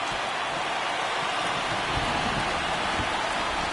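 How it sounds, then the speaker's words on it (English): Rain pours steadily at a Major League Baseball game, a dense, even hiss of drops that stays loud and unbroken throughout, with no voices over it. "the rain starting to intensify here. It's coming down a little heavier now"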